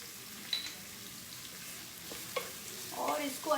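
Food is stirred and mixed in a sizzling frying pan, with soft scraping strokes and a few sharper clinks of the utensil against the pan over a quiet, steady frying hiss.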